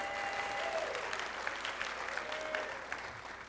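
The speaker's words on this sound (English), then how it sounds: "let's clap." An audience applauds at an employee service day gathering, dense steady clapping that fills the room throughout and softens slightly at the close, with a faint voice underneath.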